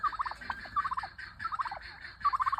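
Several Cröllwitzer turkeys break into a noisy squabble of loud, close gobbles, each a fast stuttering rattle, repeating in bursts of about half a second.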